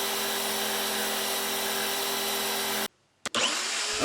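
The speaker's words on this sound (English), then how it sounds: "Next, I cut the shape using a jigsaw." A jigsaw cuts through wood in a steady, loud, continuous buzz for nearly three seconds, then cuts out abruptly into silence before a brief clatter and the whine of the blade starting again.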